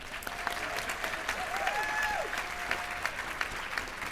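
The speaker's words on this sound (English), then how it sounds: "Now let's give one final round of applause to all of you and the incredible people who spoke today" Audience at an anniversary luncheon applauds, a steady round of clapping from a crowd lasting the full few seconds at moderate volume, with faint voices mixed in.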